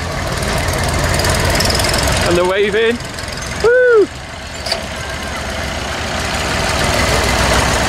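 Massey tractors move off one after another on a rural tractor run, a steady engine rumble with a brief squeal partway through, while onlookers cheer and call out over it.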